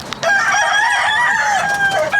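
Roosters crow loudly and close by in one long drawn-out call with clucking mixed in, outdoors among a flock of hefty birds and with no voices.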